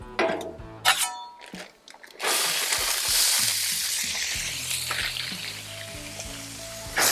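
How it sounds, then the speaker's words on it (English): Frozen corn and bacon sizzle loudly on a Blackstone griddle, a steady hiss that swells after a few clinks and scrapes and stays close and continuous to the end. "Let's get that corn going right down here on the griddle."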